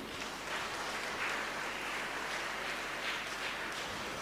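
A congregation at Mass in Poondi Basilica gives faint, distant applause to thank the church workers, a soft continuous patter of clapping in a reverberant space.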